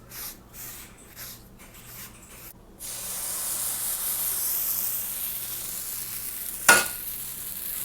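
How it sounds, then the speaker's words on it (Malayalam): Gingelly (sesame) oil poured into a hot pan bursts into a steady sizzling hiss that swells and holds, preceded by a few soft handling knocks and followed by one sharp clatter. "ഇനി ഇതിലോട്ട് ഞാൻ നടുവിൽ നമ്മുടെ ജിഞ്ചല്ലി ഓയിൽ കുറച്ച് ഒഴിച്ചു കൊടുക്കും."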